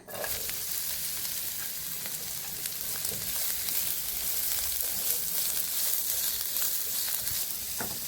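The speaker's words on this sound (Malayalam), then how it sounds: "ഞാൻ ഈ സവാള ഉള്ളിയെല്ലാം ഒന്ന് വഴറ്റണമല്ലോ" Sliced onions and green chillies sauté on a hot tawa, giving a continuous loud sizzle with occasional stirring scrapes, close up and unbroken for the whole stretch, with no talking.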